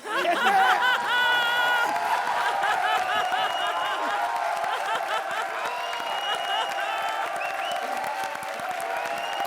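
Studio audience on the Comedy Circus comedy show claps in a sustained, dense burst of applause, mixed with laughter and some bright tonal sounds, staying loud for the whole stretch.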